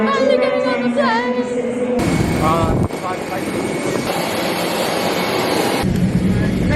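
A late-arriving passenger plane taxiing at a Melbourne airport, its jet engines a loud, steady roar that carries through the whole stretch while people chat nearby.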